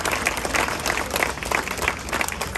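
A crowd applauds during a Swiss national day speech in Geneva, a brief continuous wash of many hands clapping at moderate distance, fairly even throughout.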